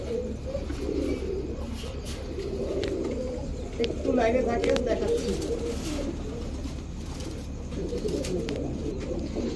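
Pigeons at a pigeon seller's lofts coo in soft, repeated throaty calls with occasional chirps, close by, while someone talks over them.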